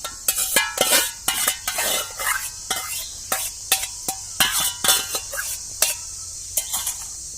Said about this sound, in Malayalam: പരിപ്പ് ഒഴിക്കാൻ പാത്രത്തിൽ വേവിച്ച പരിപ്പിനെ ഒഴിക്കുകയാണ്